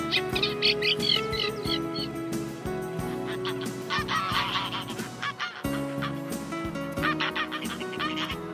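Greylag geese honking loudly and continuously in a flock at a wetland nature area, overlapping calls of many birds close by, with other bird chirps mixed in.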